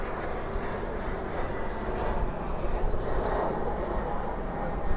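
A plane passes at DFW airport at night, a steady, loud jet roar that holds for several seconds with slight swells, heard from the spotting area.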